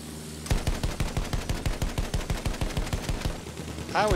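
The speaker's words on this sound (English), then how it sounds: "I'm still shooting the heavy bomber." Rapid machine-gun fire aimed at a heavy bomber in a video game, a steady burst of evenly spaced shots lasting several seconds, loud and close, with no talk over it.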